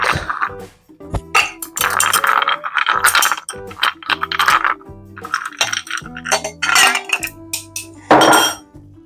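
Ice cubes clatter and clink into a metal cocktail shaker for a tangerine liqueur drink, a rapid run of sharp hard knocks and rattles with brief pauses, loud and close.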